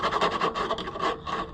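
Quick, rhythmic rasping strokes of emery cloth sanding metal terminals on an Oliver 1365 tractor, close up and moderately loud, repeating several times.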